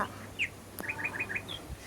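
A small bird chirps nearby in quick, high tweets while drinking and bathing at a birdbath, a short series of bright calls over quiet outdoor background.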